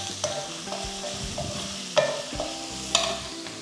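Chopped large onions and 4-5 dried red chillies for a brinjal fish curry sizzle steadily in a frying pan, stirred with occasional scraping clatters of a spoon.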